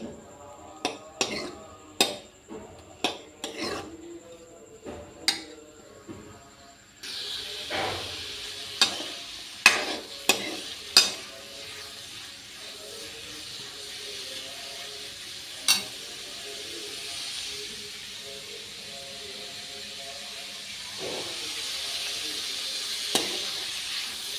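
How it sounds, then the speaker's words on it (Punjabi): Chopped onions fry in hot oil for paneer bhurji, first a series of sharp scraping and tapping strokes against the pan, then a louder steady sizzle with continued scraping, close by and with no talking. "ਪਿਆਜ਼ਾਂ ਨੂੰ ਜੀ ਆਪਾਂ ਭੁੰਨ ਲਾਂਗੇ"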